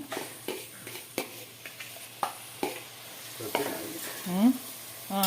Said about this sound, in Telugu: అల్లం వెల్లుల్లి పేస్ట్ కూడా బాగా వేగిపోయింది ఇప్పుడు దీంట్లోకి మనం ఈ టమాటాలు వేసుకుందాము